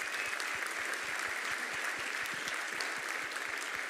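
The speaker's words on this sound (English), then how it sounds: "Huge round of applause for all of them." Audience applause at the Chrome Dev Summit 2019 conference: a sustained, even wash of many hands clapping from a large crowd, heard at a moderate distance with no talking over it.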